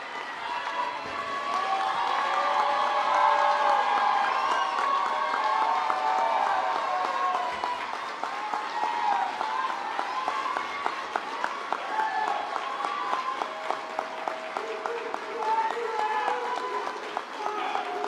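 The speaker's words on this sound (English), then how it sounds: "Can I ask you to give them" Audience applause at a school teacher-of-the-year gala. Dense clapping swells early and then thins toward scattered individual claps, with crowd voices and talk mixed in.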